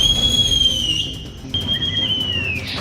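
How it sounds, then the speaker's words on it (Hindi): A long, loud, high steady whistle among tree branches, sustained tone that pauses briefly and resumes, then fades out at the end. "पेड़ों की टहनियों के बीच से सीटी की आवाज निकलने लगती है।"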